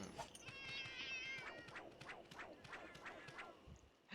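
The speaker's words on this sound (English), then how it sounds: "The cats do just kind of keep yelling though" Cartoonish Palico cats in Monster Hunter Generations Ultimate yell and meow in a rapid string of short, bright, squawky calls over a soft game background, fairly quiet.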